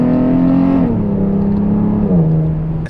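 A 900-horsepower Dodge wide body in Sublime green makes a hard pull, its loud, close engine holding a steady roar with two abrupt drops in pitch.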